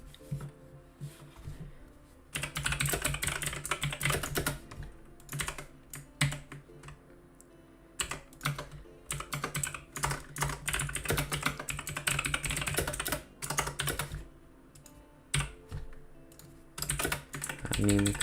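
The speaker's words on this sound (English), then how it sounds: "My typing isn't great today." Fast, uneven typing on a computer keyboard during a coding session, with bursts of clattering keystrokes and brief pauses. The sound is close and alone for most of the stretch.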